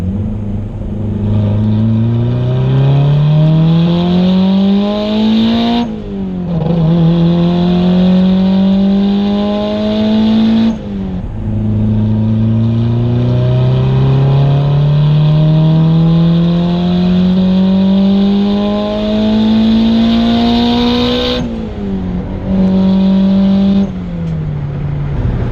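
Turbocharged Honda Prelude with an F20B engine pulling hard in second gear, a loud close drone climbing steadily in pitch through long rising runs broken by brief shift breaks, no talking.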